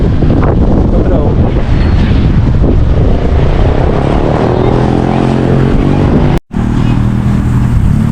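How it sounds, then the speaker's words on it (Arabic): Strong wind roars and buffets the microphone outdoors near a museum in Tripoli, Libya, a loud, continuous rumble that cuts out abruptly for an instant before resuming. "طقس ريح شوية لكن سافا، امس كان قوي برشا."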